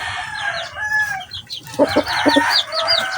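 Chickens cluck and squawk nearby on a small farm, several birds overlapping in short, busy calls with a few louder bursts and no talk.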